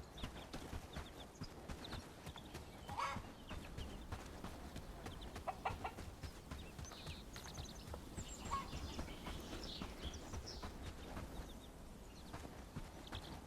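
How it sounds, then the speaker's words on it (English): Chicks clucking on a farm in the Bellwright video game. Soft, scattered clucks sit within a steady bed of ambient farm noise and clip-clopping hooves, with no talking. "let's get our chicks over to the bird coop"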